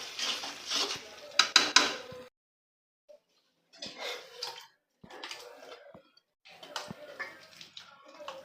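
A kitchen pot being rinsed after cooking meat: bursts of splashing water and clattering metal come close together, broken by short silences between rounds of scrubbing.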